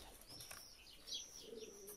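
Pigeons coo softly in a pigeon loft housing young birds and racing pigeons, with low, rolling calls and a faint flutter of wings, fairly quiet and distant.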